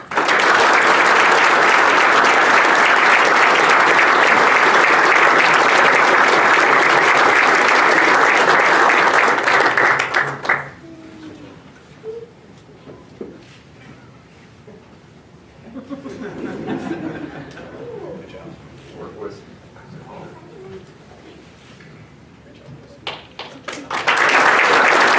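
Sustained audience applause at a township board of supervisors meeting, loud and dense for about ten seconds, then fading into murmuring, a few chuckles and scattered claps before a fresh burst of clapping at the end.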